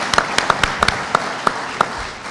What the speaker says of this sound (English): I'd like to give them a round of applause for all the work that they did.